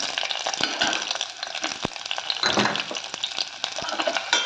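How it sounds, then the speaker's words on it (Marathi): Garlic cloves and onion fry in a tablespoon of hot oil, an uneven crackling sizzle punctuated by sharp spoon clicks and scrapes as they are stirred close by. "आता लसूण पाकळ्या आणि कांदा परतून घेते."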